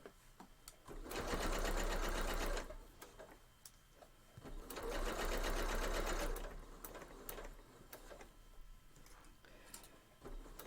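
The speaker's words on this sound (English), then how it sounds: "Mindless sewing." Close-up sewing machine stitching quilt fabric for a Christmas tree skirt, two steady bursts of rapid mechanical whirring separated by quieter pauses with faint handling clicks.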